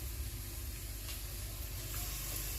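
Salmon cooking slowly in a pan, giving a steady, even sizzle and hiss that runs throughout at a soft level, close by, with no voices.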